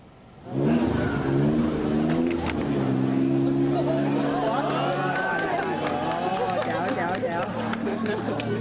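A tuk-tuk auto rickshaw engine buzzes and accelerates close by, a steady droning motor that rises in pitch, with someone speaking over it throughout.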